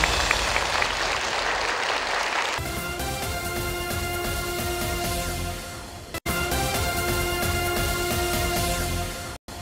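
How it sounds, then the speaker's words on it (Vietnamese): Studio audience applause on a Vietnamese television word-guessing game show, a dense, steady clapping that holds loud for most of the stretch with brief breaks near the end, with band music playing underneath. "hãy dành một tràng vỗ tay để đến với phần 3 của Điều Hình"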